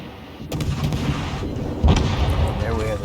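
Ship guns fire in a naval battle in the World of Warships video game, a deep booming salvo rolling over continuous game noise, loud and dense throughout.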